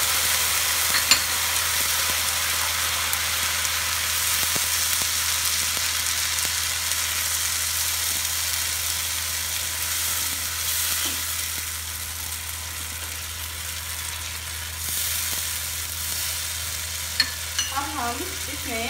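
Ground tomato with green chilli and ginger frying among golden onions in a pan for Indian mix dal tadka, a steady soft sizzle with occasional stirring scrapes, close and continuous with no talk.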